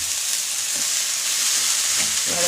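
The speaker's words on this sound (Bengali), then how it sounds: "এবার ভালো করে বাঁধাকপিটা একটু ভেজে নিই" Chopped cabbage fries with tomato in a pan, giving a loud, close, continuous hissing sizzle with a few faint stirring knocks and no voices.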